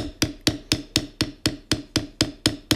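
A mallet strikes a bevel tool into leather in a steady, even rhythm, with about eleven sharp, close taps roughly a quarter second apart.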